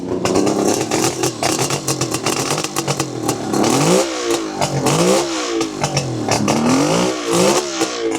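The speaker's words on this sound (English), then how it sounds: "Engine is nice and quiet as well, even though the exhaust system is loud." A three-cylinder two-stroke motorcycle engine runs close by, revving repeatedly with rising and falling pitch, a loud buzzy exhaust rasp throughout.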